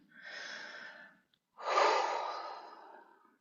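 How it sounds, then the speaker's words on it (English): Two close, clear breaths during a guided meditation: a softer airy inhale, a short pause, then a longer, fuller breath that tapers away, heard alone in quiet. "take a deep breath in"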